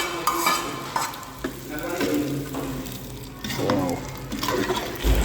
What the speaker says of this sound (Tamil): ஸோ நம்ம தட்கா இப்போ ரெடி ஆயிடுச்சு. அதை நம்ம கிரேவியில் ஆட் பண்ணிடலாம்.